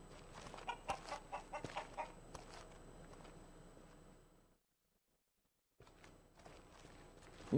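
Chickens cluck in a video game, a quick rhythmic run of clucks over a busy background. The sound cuts to silence for about a second before the ambience returns.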